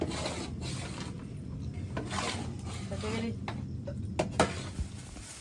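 Carrot halwa (gajrela) with peanuts and cardamom being stirred in a pot, a steady soft scraping and sizzling churn with a few sharper clinks of the spoon against the metal near the end.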